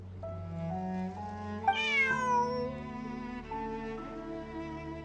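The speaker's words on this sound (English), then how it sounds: "Bonnie is Pierre's cat" A cat meows in the video game Genshin Impact, one clear meow rising then falling, heard over a soft sustained musical background with held tones.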